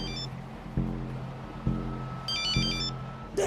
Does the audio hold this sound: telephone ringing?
yes